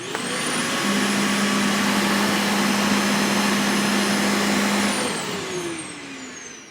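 A Hart DC1000 canister vacuum cleaner runs with its hose attached, a loud steady roar with a high whine and a low constant hum, holding evenly before winding down and fading at the end.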